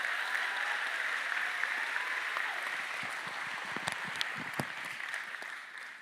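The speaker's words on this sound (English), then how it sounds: "please give yourselves a round of applause" Teachers at a school district opening ceremony applaud together, a steady wash of clapping from a sizeable crowd held at moderate distance, with a few sharper individual claps near the end.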